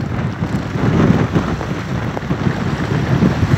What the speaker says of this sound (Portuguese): hoje tem muito vento